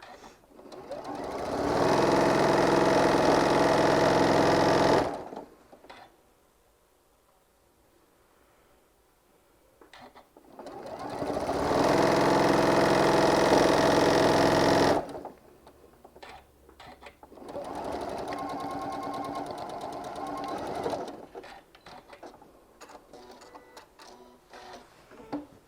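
A sewing machine stitches a quilted hummingbird panel, fabric guided by hand, in two long loud steady runs and a third softer run, with quiet pauses between.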